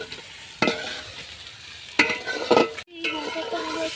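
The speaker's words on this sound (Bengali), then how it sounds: "এখন পেঁয়াজ ভাজা চলছে।" Onions frying in a pan, a soft steady sizzle with bursts of stirring scrapes, near and moderately loud, with a brief cut-off before the frying resumes.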